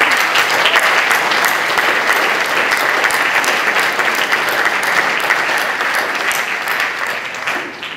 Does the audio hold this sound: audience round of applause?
yes